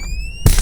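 A 12-gauge shotgun fires during a game of Russian roulette, one sudden loud blast that cuts in after a quiet stretch with a steady electronic whine and lingers as a broad rumble.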